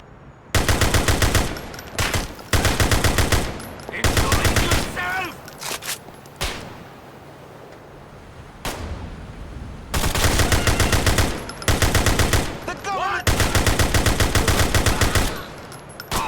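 Loud automatic gunfire in GTA IV comes in long sustained bursts separated by short pauses, close and harsh, with a voice talking briefly between volleys.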